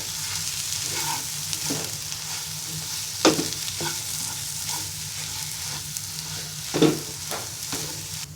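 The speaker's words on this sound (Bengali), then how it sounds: "এবার পেঁয়াজের সাথে ডালটাকে ভালো করে মেখে নিব" Boiled red lentils being mixed with onions in a hot pan for a Bengali dal bharta, with a steady sizzle and repeated spatula scrapes, two of them louder knocks, close by and without speech.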